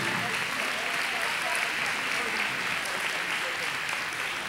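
An audience claps at a foundation breakfast, a dense, even wash of applause that holds steady and fairly loud throughout.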